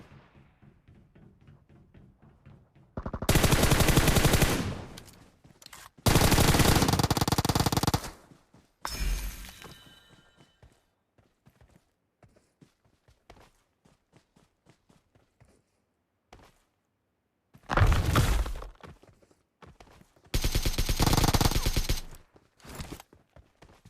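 Automatic M4 and AKM rifle fire in the mobile battle-royale game PUBG Mobile comes in several long, loud sustained bursts separated by quieter stretches with faint footsteps and movement.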